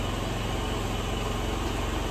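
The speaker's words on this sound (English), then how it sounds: "so now it idles basically perfectly" A Honda Metropolitan scooter engine idles steadily after a carburetor clean, giving an even, continuous low putter with broadband hiss and no pauses or revs.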